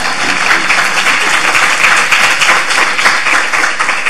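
Loud, dense applause fills a symposium hall as the audience claps continuously for a law professor's introduction, an even wash of many hands with no speech over it.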